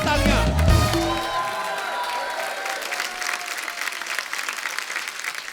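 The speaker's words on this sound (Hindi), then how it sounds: "बहुत बहुत स्वागत है और जोरदार तालियां।" Studio audience applause on a television comedy talk show: a full, dense roar of clapping from a large crowd, holding steady throughout, with music trailing off at the start.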